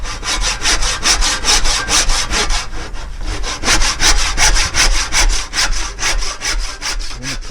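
A hand saw cuts the end off a piece of wood in close, loud, rhythmic back-and-forth strokes, about thirty in quick succession, with a brief pause midway.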